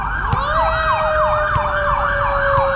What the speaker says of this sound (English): the fire truck, let them go